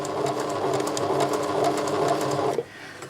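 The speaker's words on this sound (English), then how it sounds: "I'm going to use a fairly small stitch, and I'm going about 2 millimeters off" A sewing machine running steadily at close range while stitching a sun dress, a fast even whirring chatter that stops abruptly near the end, leaving quiet room tone.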